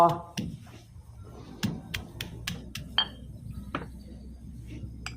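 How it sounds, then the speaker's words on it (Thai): Peppercorns, garlic and coriander root are pounded in a mortar, giving a series of sharp, irregular close knocks and clinks while someone talks over them. "วันนี้พี่การจะตำไม่แหลกนะคะ เอาแค่พอบุบบุบพอ"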